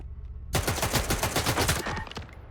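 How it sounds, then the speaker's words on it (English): Gunfire aimed at the player in a video game: a sudden, loud burst of rapid automatic shots that cuts in from near silence, rattles on steadily and then trails off. "Why are you shooting at me?"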